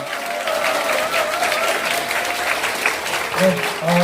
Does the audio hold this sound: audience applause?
yes